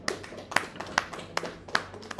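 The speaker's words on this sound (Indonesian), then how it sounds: "Ayo tepuk tangan." A handful of scattered handclaps from a small audience at a student discussion session, about six sharp, uneven claps over a quiet room.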